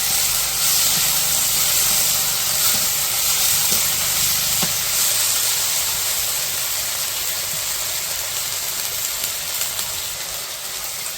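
Onions and green chilies with ginger-garlic paste fry in a pan over village cooking heat, giving a steady, close sizzling hiss that runs unbroken and fairly loud throughout, with no talking.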